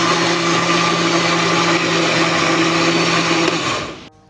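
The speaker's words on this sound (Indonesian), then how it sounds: "kita udah selesai blender cabai untuk anak-anak" A kitchen blender whirs loudly and steadily while blending chili peppers, a close continuous motor roar that winds down and cuts off near the end.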